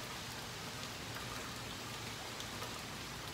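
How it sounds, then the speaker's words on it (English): Steady rain falls outdoors just before a dash to a parked car, a soft, even hiss of drops with no voices, constant throughout. "I didn't know it was gonna start raining like right before I had to get out the house"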